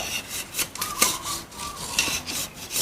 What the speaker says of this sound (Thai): เหลาก็ไม่ยากนะครับค่อยๆเหลาให้ได้ เท่ากันนะครับ